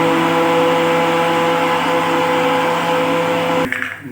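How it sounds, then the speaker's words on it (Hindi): An electric mixer grinder whirs loudly and steadily, grinding sugar for almond kulfi, then cuts off abruptly near the end. "फिर इसे ग्राइंड करेंगे।"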